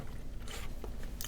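Someone bites into a soft chocolate-covered date filled with a slightly crisp centre, giving a close, quiet crunch and brief chewing, with no talking.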